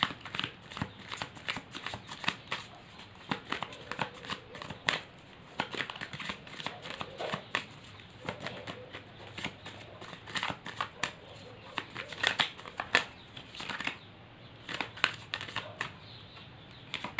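Tarot cards being shuffled by hand, a steady run of soft riffling, slapping and flicking sounds with uneven rhythm, close and fairly quiet throughout.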